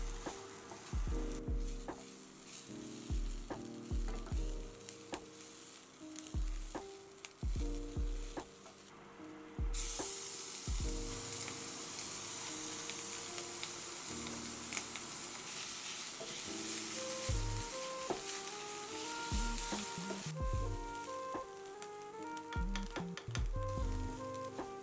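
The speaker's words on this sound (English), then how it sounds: "in a pan over about medium heat, I'm going to put a little bit of oil along with one medium onion" One medium onion frying in a little oil in a pan over medium heat, a continuous crackling sizzle broken by repeated clanks and scrapes of stirring, with a brighter, denser hiss in the middle part; no voices.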